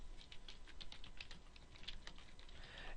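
Quiet, close typing on a computer keyboard, a continuous run of light, irregular key clicks at a steady pace with no voices.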